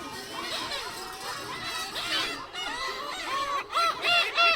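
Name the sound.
black-tailed gull (umineko) calling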